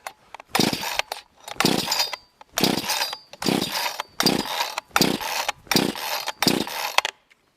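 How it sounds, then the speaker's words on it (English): Someone tries to start the cheapest chainsaw sold on Amazon, with the ignition on and the choke out: eight loud, rasping pull-start bursts in a regular rhythm, each about half a second long and separated by short silences. "So we got the ignition on, the choke out."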